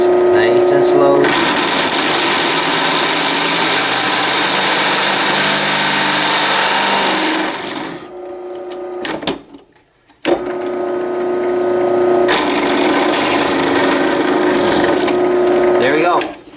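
Drill slowly boring an oiled hole in metal for tapping, a loud steady grinding whir with a brief stop partway through before resuming, with voices over it.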